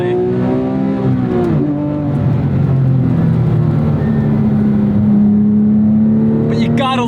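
A Porsche 911 997 GT3 with its Mezger flat-six runs steadily throughout, a strong low drone holding near one pitch with a brief rise early on, close and continuous.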